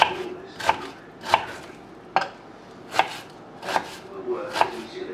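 A knife chops through an onion on a cutting board at home while preparing chicken and dumplings, six evenly spaced crisp thuds, close and fairly quiet, with no talking.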